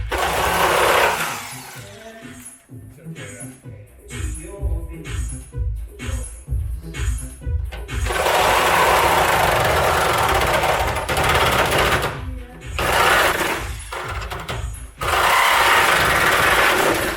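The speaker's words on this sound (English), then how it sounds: "Sawzall." A Sawzall reciprocating saw cuts through a car body panel on a custom 750SWB SuperCoupe build. It gives loud, harsh buzzing runs broken by a stretch of choppy, stuttering strokes, then roars again in long bursts with brief pauses.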